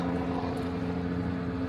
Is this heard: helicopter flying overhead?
yes